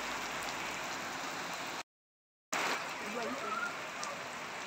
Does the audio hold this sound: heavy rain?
yes